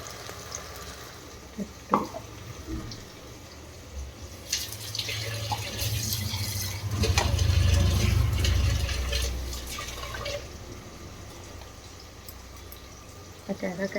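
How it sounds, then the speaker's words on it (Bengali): Water poured into a cooking pot of chicken curry with spices and ginger-garlic paste, a steady splashing fill that swells in the middle and fades, with someone speaking over it. "এই যে জলটা দিয়ে দিলাম"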